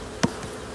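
Honey bees from a recovered swarm buzz faintly in the background, with one brief louder burst as a bee passes close.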